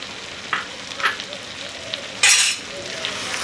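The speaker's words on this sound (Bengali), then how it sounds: "আবারও আমি খুব ভালো করে নেড়ে দেব" Mutton rogan josh frying in a pan with Kashmiri chili paste, a steady sizzle broken by several scraping stirs, the loudest burst coming near the end.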